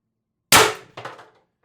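A single sharp crack from an Umarex TR68 Gen 2 airgun firing 8-gram shaped .684 ammunition at 1,050 PSI, followed by a brief metallic clatter, close and loud with no talking.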